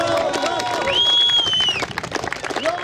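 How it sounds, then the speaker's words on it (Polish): An outdoor crowd claps and cheers for award winners at the I Bieg Ziemi Puckiej 10 km road race. A high whining tone rises above the steady applause, which breaks into scattered claps near the end. "Wielkie brawa dla 20-latków"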